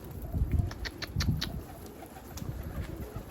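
Pigeons cooing and fluttering on a rooftop, soft repeated low coos with a few sharp wing claps and chirps, fairly faint and close, no voices.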